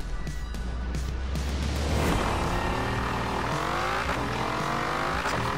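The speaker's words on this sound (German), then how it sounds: "Wahnsinns V10." A high-revving V10 racing car engine in Forza Horizon 4 screams and climbs through rising pitch sweeps as it accelerates, loud and close, with a tire squeal.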